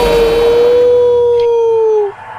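A fox howls in a horror comedy short film, one long, loud, sustained wail that holds steady and then trails off after about two seconds, with no talk over it.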